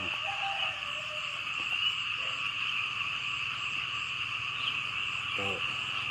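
Frogs croak outdoors at night near a frog trap, a steady chorus under a loud continuous insect drone, with a few brief nearer croaks.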